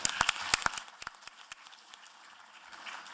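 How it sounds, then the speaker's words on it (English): Audience applause at the Wernher von Braun Memorial Symposium, sharp close claps at first that thin into scattered, fading clapping. "Let's have a round of applause for John."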